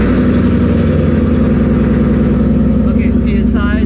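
A Ford Mustang GT S550's engine runs at a steady idle throughout, a continuous low drone close by, while people talk over it.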